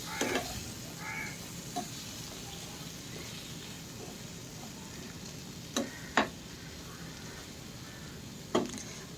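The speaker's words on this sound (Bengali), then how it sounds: "এরপর আমি নেড়ে চেড়ে নেব ভালো করে" Pointed gourd is stirred with turmeric in a pan under a soft, steady sizzle, with a few sharp spatula clicks against the pan and no talking.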